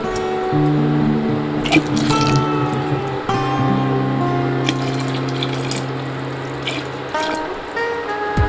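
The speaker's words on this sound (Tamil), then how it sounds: "இப்போ இது கொதிக்கணும் கறி வேகணும் அதனால இன்னும் கொஞ்சம் தண்ணி சேர்த்துக்கலாம்" Water pours steadily into a bubbling pot of simmering mutton curry, with a continuous gurgling stream and occasional drips, close and fairly loud throughout.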